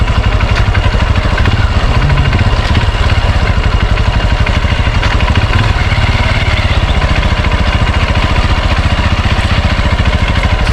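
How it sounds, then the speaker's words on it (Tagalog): A motorcycle engine runs close and loud, with a steady throbbing rumble and no clear rise or fall in pace over the whole stretch, and no voices over it. "paputik naman yung motor natin."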